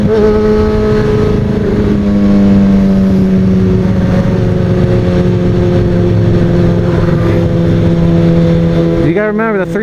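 Road traffic rumbles with a sustained engine drone whose pitch shifts gradually, loud and close, then cuts to a brief different revving sound at the very end.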